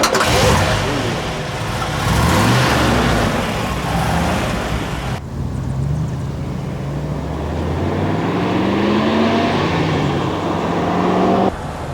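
A 1962 Chevrolet Bel Air with its 409 engine fires up and runs, a loud, rumbling idle that rises and falls in pitch as the throttle is blipped, with no voices.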